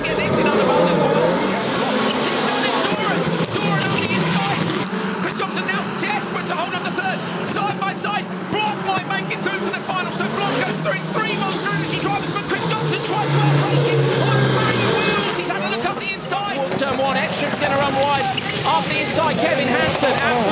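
Rallycross race cars battling and overtaking in an FIA World RX semi-final, with loud engines roaring and shifting continuously while a commentator talks excitedly over them.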